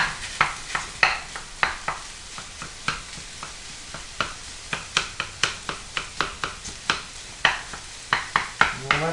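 Ground meat sizzles in a hot pan while a utensil repeatedly scrapes and chops through it, a steady series of sharp close scraping strokes over a constant frying hiss, with no talking.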